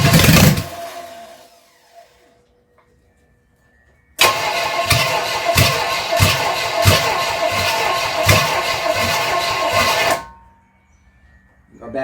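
A stuck, long-abused Chevrolet 327 V8 cranks and catches, then runs with a loud, steady roar punctuated by rhythmic pulses for several seconds before cutting out to near silence.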